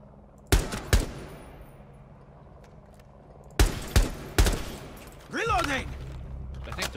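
Rainbow Six Siege gunfire, with several sharp close shots in two pairs and then a short burst, separated by quieter stretches and followed by a chirpy electronic game effect.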